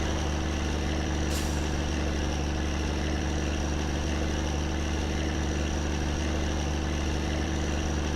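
A truck engine idles steadily in the video game My Summer Car, a continuous low rumble with no talking.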